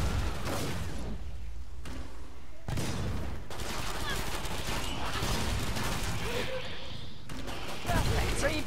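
Pistol gunfire in Killing Floor 2, with sharp repeated shots and bursts of broadband cracks amid game chaos, loud and close, while people talk over it.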